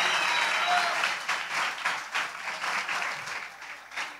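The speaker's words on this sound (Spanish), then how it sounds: "yo sé que va a ser un aplauso colectivo, con mucho amor" A crowd at an awards ceremony bursts into warm applause, loud at first and then gradually thinning and fading, with no talking over it.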